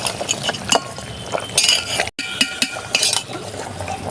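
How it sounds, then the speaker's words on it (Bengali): A metal spatula stirring chicken curry in a pot, giving scattered clinks and scrapes against the metal with wet sloshing between them, close and moderately loud, with one brief dropout midway. "এবার একটু আমি খুন্তিটা দিয়ে একটু ঘেঁটে দেবো।"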